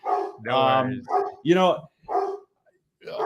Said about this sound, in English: I apologize for that with the barking in the background.